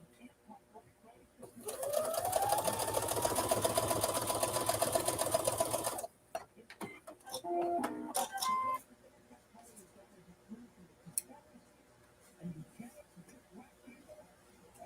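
A sewing machine stitching a quilt runs in a loud, continuous burst for about four seconds, then stops; handling clicks and knocks follow, with a voice talking quietly in places.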